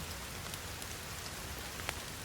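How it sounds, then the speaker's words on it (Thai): Steady rain falling in the survival video game The Forest, a constant soft hiss of drops on surfaces with a few slightly louder droplet ticks, heard alone without talk. "ฝนตกนี่ว่า"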